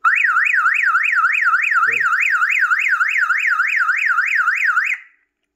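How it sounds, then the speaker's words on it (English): A Kerui home alarm system siren wails loudly and up close in a fast rising-and-falling warble, running steadily for about five seconds before cutting off abruptly. "Press the unlock to turn it off."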